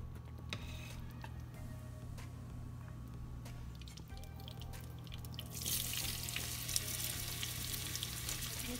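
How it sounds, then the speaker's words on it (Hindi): Onion tempering sizzling in hot ghee for dal, a steady close crackle and hiss that grows brighter and louder partway through, with no talking. "प्याज का मैं घी के साथ भगाड़ दूंगी।"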